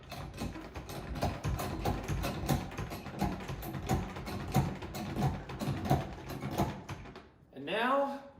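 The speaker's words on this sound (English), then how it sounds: "Then we're going to jack the machine up again." A Ski Doo snowmobile is raised with a jack, giving a steady series of ratcheting mechanical clicks at an even pumping rhythm, close by, followed by a short creaking squeal at the end.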